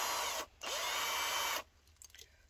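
A Parkside PSBSA 18LiB2 18V hammer drill driver runs in two loud, steady bursts of motor whine separated by a short pause, then stops, leaving faint handling noises.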